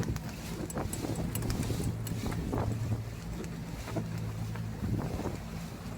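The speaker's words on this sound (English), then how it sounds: "Wind's blowing hard out of the northeast." Strong northeast wind blows hard across a moored boat on the Chesapeake near Hampton, Virginia, a loud steady roar with gusts buffeting the microphone and faint clanks and rattles from the rigging and hull.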